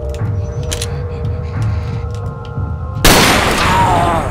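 A gunshot in Resident Evil 4 fired at a Regenerator lurking around a corner, a loud burst that cuts in suddenly and stays bright and noisy after a stretch of low ambient game hum.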